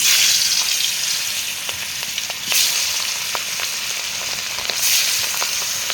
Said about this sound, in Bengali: তেল গরম হয়ে গেছে, এখন একে একে মাছগুলো দিয়ে দেবো।